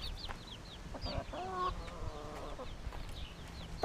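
Chickens on a backyard plot making a mix of soft clucks and higher chirping calls, steady and fairly close, with some outdoor background noise and no talking.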